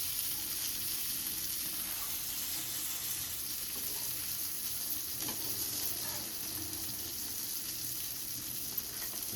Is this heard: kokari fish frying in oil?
yes